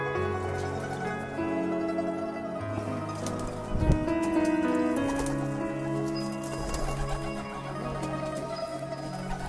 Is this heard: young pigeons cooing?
yes